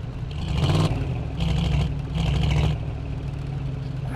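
A mid-pitched car engine in the video game Drive Beyond Horizons revs up in three short bursts, each swelling then dropping back to a steady idle hum.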